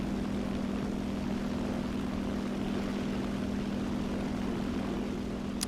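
Propeller plane engines drone in War Thunder, a steady unbroken buzzing hum holding at a constant pitch and loudness throughout, with no talking.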